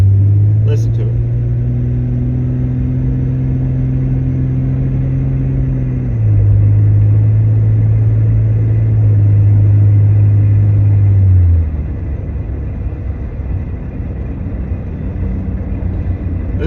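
The 4.0 engine of a 2000 Jeep Cherokee XJ idles with a loud, steady, low rumble that holds a smooth hum, shifts pitch slightly midway and then settles into a rougher, quieter idle, heard close and alone.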